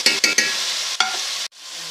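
Chicken macaroni is stirred in a hot pan, loud close sizzling punctuated by several quick scraping strokes, then the frying drops abruptly to a softer hiss.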